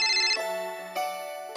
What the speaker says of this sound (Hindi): एक मिनट, पापा जगमोहन अंकल का फोन है